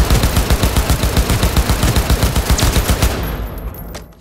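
A semi-automatic M25S rifle, resembling an AK, fires in Cyberpunk 2077 on PS5: a rapid, loud, evenly spaced string of shots for about three seconds, then an abrupt stop and a fading tail.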